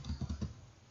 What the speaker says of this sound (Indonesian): kemudian kita ketikkan IP